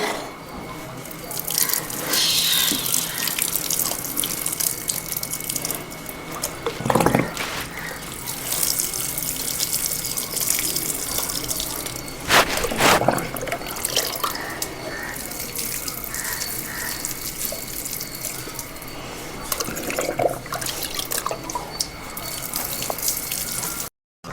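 Water pours and splashes steadily onto potted plants in a home garden, with dripping and gushing throughout and a few louder splashes along the way.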